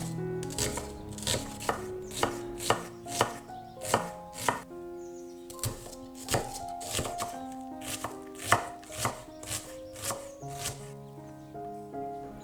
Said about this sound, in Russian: Одну луковицу среднего размера я измельчу на мелкие кубики.